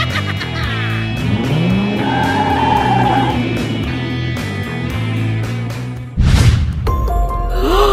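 A stolen cartoon car in a children's game revs and its tires squeal as it speeds off, with a sharp whoosh near the end over bright electronic game music.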